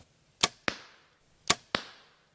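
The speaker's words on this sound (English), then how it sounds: "when you're shooting at the target, it does make a pretty loud snap." Two pairs of sharp arrow sounds, each a crisp release snap followed quickly by a loud smacking hit into a Rinehart Rhino bag target, with brief ringing decay.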